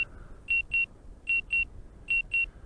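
Electronic warning beeps from an Autel Evo Nano+ drone in quick pairs repeat three times with short pauses between, clear and steady over faint low background noise.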